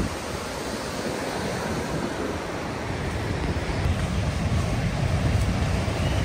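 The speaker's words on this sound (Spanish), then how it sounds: "Pues ahora les vamos a enseñar la hermosa vista del mar para que miren" Ocean waves roll onto the shore at the sea in Tecomán, Colima, Mexico, making a steady, close, broadband roar mixed with gusting wind on the microphone, with no talking.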